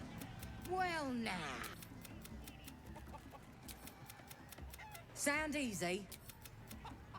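Chicken clucks in a game, two short rising squawk bursts a few seconds apart, over steady background noise, with someone talking around them.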